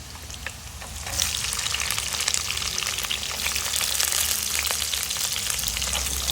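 Onions fry in a pan with a loud, dense sizzle close by, growing stronger after about a second and then crackling on steadily with no voices.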